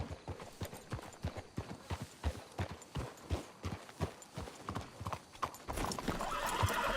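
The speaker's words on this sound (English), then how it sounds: "Let's hitch the horses up ahead." Several horses clip-clop in steady hoofbeat rhythm in Red Dead Redemption 2, close and fairly loud, with a whinny near the end as the horses are pulled up.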